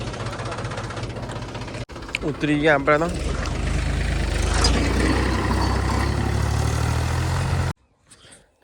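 A tractor engine idles with a steady low rumble, loud and close, under someone speaking Gujarati, then cuts off near the end, leaving near silence.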